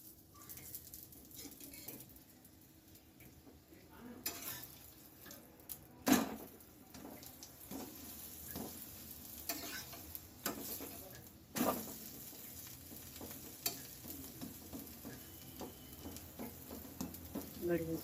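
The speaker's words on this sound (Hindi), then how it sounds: "बढ़िया से सेको दोनों पाला।" Aloo paratha cooking in ghee on a hot pan, giving a low steady sizzle with scraping and stirring touches and a few sharp clinks, all close by.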